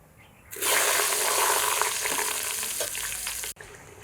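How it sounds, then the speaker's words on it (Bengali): Eggplant pieces hit hot oil and erupt into a loud, dense hiss that holds steady for about three seconds, then drops abruptly to a quieter background sizzle. "এই তেলে বেগুনের পিসগুলো ভাজবো"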